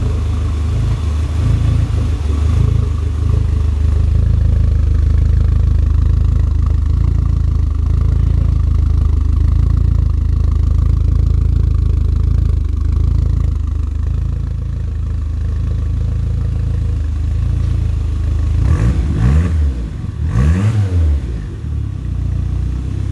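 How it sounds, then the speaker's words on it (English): A Mk4 Ford Escort RS Turbo idles with a loud, deep, steady burble close by, holding an even rumble throughout before two quick blips of the throttle near the end. "Just a lovely, nice toned burble."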